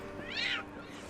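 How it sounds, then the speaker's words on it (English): An angry cat gives a single short, rising and falling meow in a turn-based CRPG video game, heard alone over a faint background hum. "Angry kitty."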